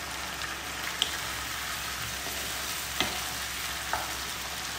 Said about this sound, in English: First of all, we need to fry this ginger garlic paste.